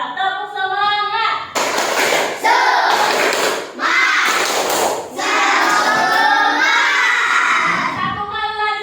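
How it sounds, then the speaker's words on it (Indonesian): Schoolchildren in a classroom perform a rhythmic spirit clap chant, loud group claps in bursts between sung and shouted chanting, with a teacher's voice at start and end. "Coba tepuk semangat"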